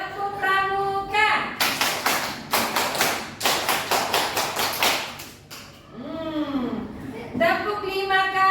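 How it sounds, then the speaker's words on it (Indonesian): A group of children does the Indonesian Scout clap (tepuk pramuka), sharp rhythmic claps in a patterned sequence of grouped bursts with short pauses, close and loud, with a teacher talking before and after. "Tepuk pramuka."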